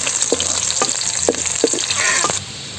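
Garlic frying in a pan for beef pala-pala sizzles loudly up close. Intermittent clinks and scrapes of stirring break the steady hiss, which eases slightly near the end.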